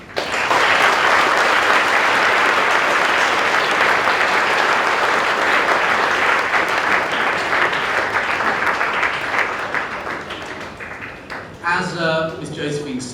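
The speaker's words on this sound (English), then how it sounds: "give her another round of applause" Sustained audience applause fills a school presentation day event, loud and dense at first, then slowly thinning before a voice begins speaking near the end.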